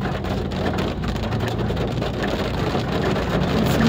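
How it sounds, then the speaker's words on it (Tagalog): Steady rain falls in Manila, a loud, continuous hiss of drops striking surfaces that holds an even level throughout, with no voices. "Raining in Manila,"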